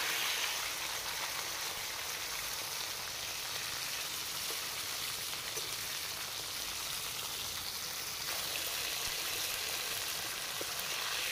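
Tuna fish pieces fry in hot oil, a dense, continuous hiss and crackle like steady rain that holds evenly throughout, close and uninterrupted.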